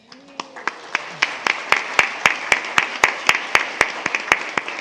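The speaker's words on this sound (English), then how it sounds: "So how about a cheer for the cheerleading Knights?" A high school audience claps in a steady, slightly uneven rhythm for the Shadow Hills cheerleading Knights at a board meeting, the claps sharp and moderately loud, building over a few seconds with a murmur of voices underneath.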